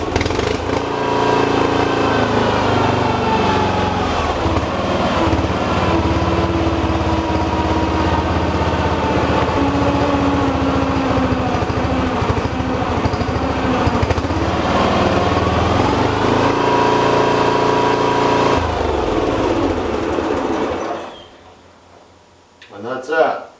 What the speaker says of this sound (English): I can slow down the throttle if I want to.